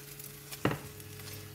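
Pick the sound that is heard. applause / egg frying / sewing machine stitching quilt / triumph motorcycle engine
egg frying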